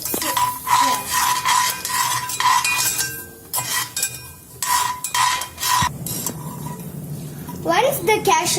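Cashew nuts frying in a pan and being stirred, with steady scraping and clinks of a spoon against metal over a soft sizzle, close and moderately loud, with a few short gaps.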